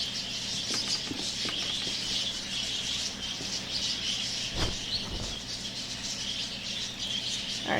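Loud, dense bird screeching and chirping fills the whole stretch in the video game The Last Door, a continuous shrill chorus with a few sharper bursts, no voices over it.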